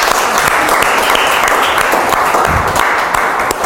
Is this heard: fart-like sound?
no